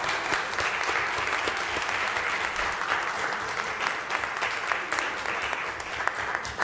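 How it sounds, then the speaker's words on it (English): Steady, moderate applause from an audience at a school board of education meeting, a continuous wash of many hands clapping throughout with no voices standing out. "Let's give our students another round of applause"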